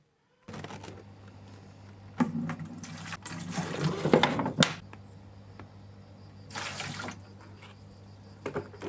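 Fermented liquid banana peel fertilizer is poured into water to dilute it, with splashing bursts of pouring separated by short pauses and faint handling sounds.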